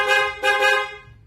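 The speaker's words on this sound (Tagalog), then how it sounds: "Then loud horn." A loud aftermarket car horn sounds two quick blasts back to back, bright and brassy, close and strong, fading out within about a second.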